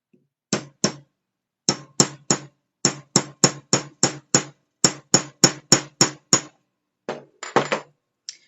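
A hammer strikes a rivet set into a drilled flat rock in quick, sharp metallic taps, about twenty blows in uneven bursts with short pauses, close and clear with no talk.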